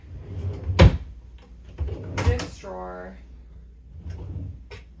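A wooden drawer knocks and slides open with a dull thump, followed by a short scraping glide, then quieter rustling.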